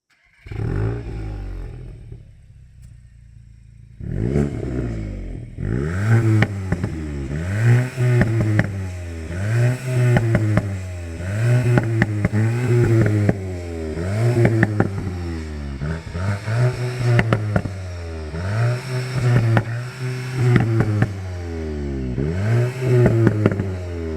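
A Volkswagen Golf GTI hot hatch idles, then revs repeatedly in rising and falling sweeps, its exhaust crackling and popping between each throttle blip, loud and close with no talking.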